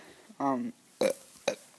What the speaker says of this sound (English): I just ate dinner, so that's why I might burp a few times